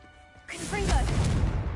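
Confringo blasting spell from a Harry Potter video game, a sudden loud crash-like burst that cuts in after a quiet moment and rolls on as a sustained roaring blast with crackling debris, with a voice calling out over it.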